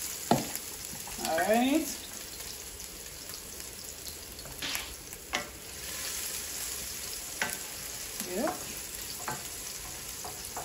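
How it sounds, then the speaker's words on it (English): Ingredients for spicy shrimp sizzle and fry as they are sautéed in a pot, a steady close crackle with occasional stirring scrapes, and a voice speaks briefly. "Just make them get a little sauteed. So we saute them a little."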